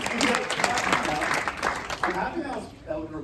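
Audience applause at a community debate in Ottawa West Nepean, a dense wash of clapping from a crowd, steady and fairly loud throughout with voices mixed in.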